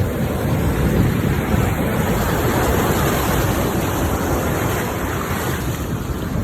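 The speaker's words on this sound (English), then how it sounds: "We're on the beach right now." Ocean surf washing onto a sandy beach, a steady, loud, broadband roar of breaking waves with some wind buffeting the microphone throughout.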